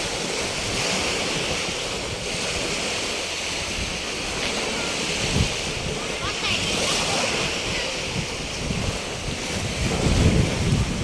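Ocean waves rolling onto a beach in Southern Leyte, a steady broadband wash with swells rising and falling and gusts of wind buffeting the microphone, fairly close and continuous with no clear talk.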